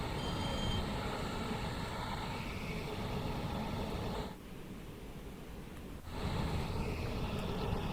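A long freight train of about 100 wagons in Train Sim World 2 on the East Coastway rumbles steadily with engine drone, dipping quieter for a couple of seconds midway before the loud running noise returns.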